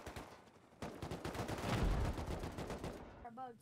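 Gunfire in the video game Rust on a competitive server, rapid repeated shots in quick bursts filling the clip, with a voice speaking briefly near the end.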